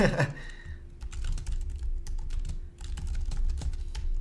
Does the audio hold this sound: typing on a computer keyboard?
yes